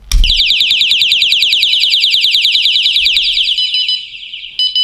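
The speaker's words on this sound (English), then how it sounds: "this one is beeping here, indicating that the main pin has been pulled from the other alarm" A pin-pull personal alarm, its pin pulled, blares a piercing, rapidly pulsing electronic tone very loudly and continuously, then shifts to a steadier tone near the end.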